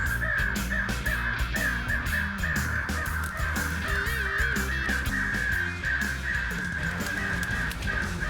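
Crows caw insistently in the woods during late hunting season, a loud, near, rapid string of harsh repeated calls over a dense layered background, with no talk.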